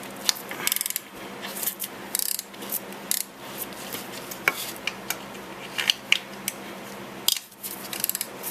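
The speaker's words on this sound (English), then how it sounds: "now let me get my 10 deep socket, and we'll go after these other ones" A ratchet with a 10mm deep socket cranks loose the valve cover bolts on a 2001 Dodge Dakota, its fast pawl clicking coming in short, uneven bursts at close range, fairly quiet with light metallic clinks between strokes.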